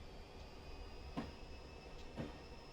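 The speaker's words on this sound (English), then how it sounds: "I just wanted to get the whole train onto this siding, and I'll kill the power, and I'll just let it slow down to nothing" A Caltrain train in Train Simulator 2020 coasts onto a siding with the power off: a faint steady rumble with two soft rhythmic wheel clunks, fairly distant and without talk.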